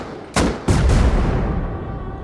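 Two sharp gunshots in the video game Rust ring out about a third of a second apart, each followed by a rumbling tail, with a steady background hum throughout.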